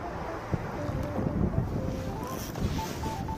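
Steady, roaring wind buffets the microphone during evening walking lure fishing for rockfish from the shore on Korea's south coast, with faint thin tones and small knocks beneath, no speech.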